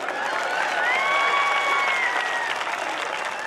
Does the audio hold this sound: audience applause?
yes